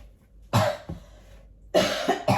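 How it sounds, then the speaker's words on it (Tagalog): A woman coughs while sick, a few harsh throaty coughs in separate bursts with pauses between them, close and fairly loud with no talking. "Kasi nga ubunga pa rin ako ng ubo."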